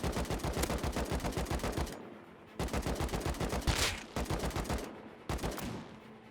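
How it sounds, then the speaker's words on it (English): Several players firing at once in a survival game, rapid automatic bursts in three long volleys separated by short gaps, loud and close with sharp rhythmic cracks. "I peek and I get shot by 6 guys."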